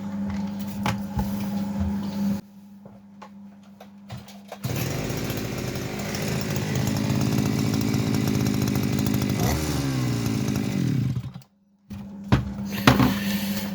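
A petrol brush cutter's small two-stroke engine runs after a carburetor repair, first idling with a rough rattle, then cutting out briefly before revving up to a steady, loud buzzing whine that drops off suddenly and then returns to idle.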